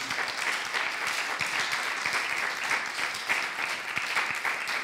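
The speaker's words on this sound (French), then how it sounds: "Est-ce que nous pouvons acclamer pour la parole de Dieu?" A church congregation applauds together in steady, dense clapping that holds at an even level throughout, with no break in the noise.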